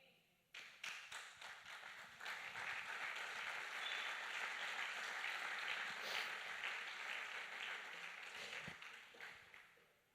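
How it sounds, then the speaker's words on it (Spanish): A church congregation applauds, with sustained clapping that starts abruptly, holds steady and fairly loud for several seconds, then tapers off near the end. "Gloria a Dios por tu aplauso"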